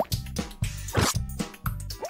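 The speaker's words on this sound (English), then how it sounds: "More bubbles!" Bubbles in a children's TV show form a quick series of wet, popping plops and drips, about five in a rhythmic run, close and distinct, with squishy liquid tones between.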